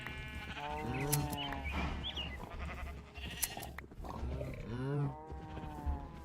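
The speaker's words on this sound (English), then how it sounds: "Can I shear the Highland cow because it's slightly fluffier?" A Highland cow in modded Minecraft lets out low drawn-out moos, mixed with wavering bleats from other farm animals, loud and close throughout.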